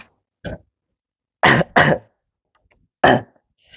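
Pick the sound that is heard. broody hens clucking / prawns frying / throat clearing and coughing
throat clearing and coughing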